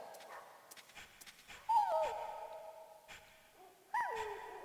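Dogs in the Metal Gear Solid video game let out two sharp, whining whimpers that rise and then fall, separated by a short pause over a quiet game background.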